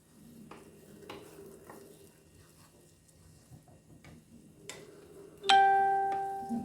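A spoon stirs jollof rice in a pot, giving soft intermittent scrapes and clinks over a quiet sizzle, close by, then a louder metallic ring from the pot near the end.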